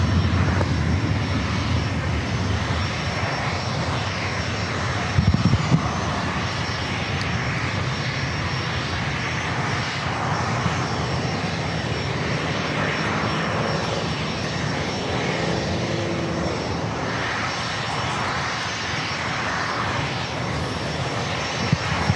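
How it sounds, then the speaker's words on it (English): A Delta Boeing 737-800 airliner arriving from Seattle at San Diego airport rumbles in with a long, steady jet-engine roar at moderate distance, holding constant through the whole stretch, with a brief thump partway and no voices. "Next arrival is that Delta flight committed from Seattle, flight 2572, a 737-800."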